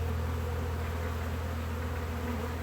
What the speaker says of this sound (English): There's certainly a mass of bees